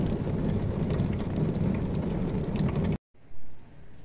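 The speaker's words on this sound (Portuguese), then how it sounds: "Agora a gente tem que ficar aqui embaixo esperando a chuva passar." Heavy rain pours steadily on a dark night, a dense continuous hiss with no voices, then briefly cuts out near the end before the noise returns.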